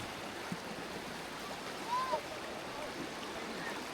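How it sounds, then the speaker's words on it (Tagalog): Strong river current rushing past during a crossing on foot, a steady broadband wash with faint splashes, heard close and continuous without clear speech. "Ang lakas po ng current."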